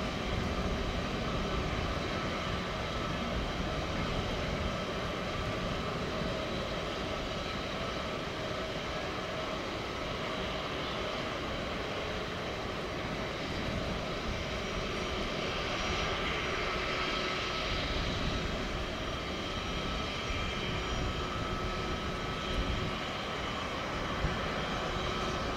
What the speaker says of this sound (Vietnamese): sau đây sẽ là pha cất cánh của chiếc VC-32A mang số đăng bạ 990003 ở sân bay Nội Bài